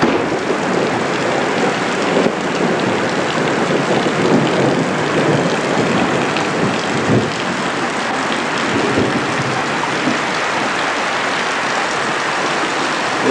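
Heavy rain pours down during a thunderstorm in a dense, constant hiss, loud and close, with a faint low rumble of thunder beneath and no voices.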